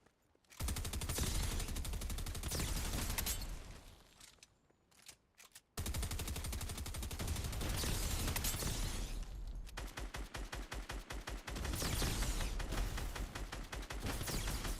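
Submachine gun fire in the video game Fortnite, long rapid bursts of automatic shots that cut off briefly and then resume, loud and continuous with no talking.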